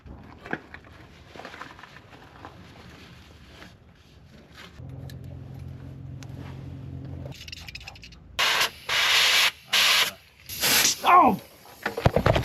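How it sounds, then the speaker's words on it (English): Compressed air and brake cleaner blasting through the hard brake lines of a 1940 Plymouth Deluxe come as several short, loud, close hissing bursts near the end, after quieter handling noise and a low hum. "it is the perfect time to get some brake cleaner and compressed air and blow through all of our hard lines"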